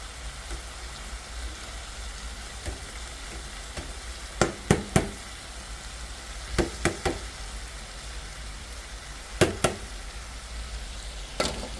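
Fish frying in hot mustard oil, a steady sizzle with repeated sharp knocks and scrapes of stirring, close and moderately loud.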